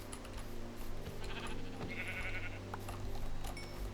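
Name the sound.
sheep bleating in a video game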